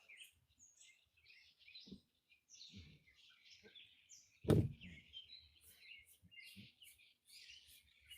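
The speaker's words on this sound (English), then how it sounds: "The sound of birds is" Small birds chirp and tweet steadily outdoors in a quiet garden, moderately close, with a few soft thumps and one sharp knock in between.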